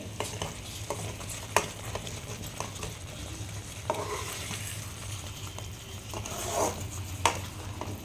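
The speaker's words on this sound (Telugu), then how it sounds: "ఇలా దగ్గరకు వచ్చేదాకా ఉడికించుకొని కలుపుతూ ఉండాలి, గడ్డ కట్టకుండా, ఉంట కట్టకుండా" Buttermilk upma thickens in a pan while a spoon stirs it, soft repeated scraping and occasional knocks against the pan over a quiet bubbling sizzle, fairly faint and close.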